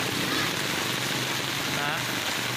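Dense, steady rushing of rain and flood water fills the scene, a constant broadband wash with no breaks.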